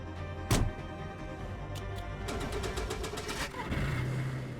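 A car engine in the video game DayZ revs and pulls away, a steady mid-range rumble with a sharp thump near the start and rising intensity toward the end.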